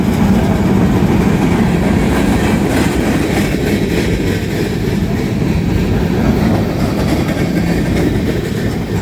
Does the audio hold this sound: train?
yes